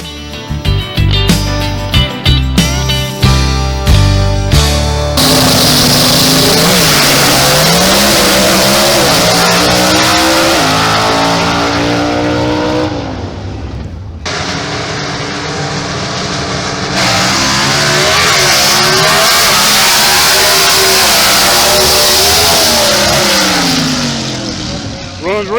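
Gasser drag race car engine roaring and revving hard, pitch climbing through gear changes, then falling away before a second loud pass, with a voice heard at times.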